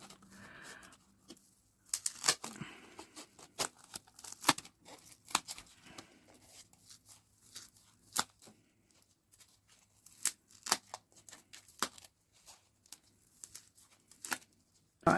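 Scissors cut into soft card as many quiet, scattered snips and crisp rustles spread irregularly across the stretch, close by and faint, with no talk.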